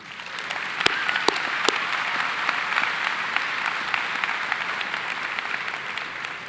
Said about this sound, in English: Let's give a round of applause for our activities.